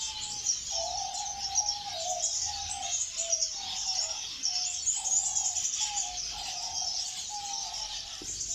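A bumblebee finch sings in an Iraqi aviary holding many bird species, repeating short, even phrases in a steady rhythm at moderate distance over a soft hiss of other birds, with no speech.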